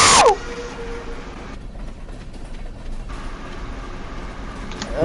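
Train rumbling past in the Stardew Valley farming video game, a steady moderate mechanical clatter lasting several seconds, framed by brief game chimes at start and end.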